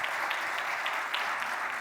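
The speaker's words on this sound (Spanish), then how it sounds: "un fuerte aplauso para ella, por favor" Brief applause from a conference audience welcoming a speaker on biometric technologies and cybersecurity, a steady patter of many hands, moderately quiet and even throughout.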